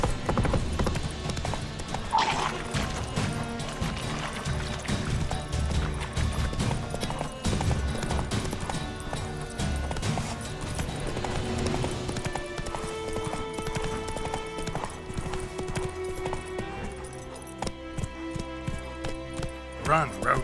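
Hooves of Roach, the horse in The Witcher 3, clip-clop steadily at a gallop through roughly twenty seconds, set within a busy game mix of music and effects, with a brief whinny near the start and a voice speaking briefly.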